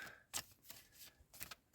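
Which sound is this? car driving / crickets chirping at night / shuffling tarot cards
shuffling tarot cards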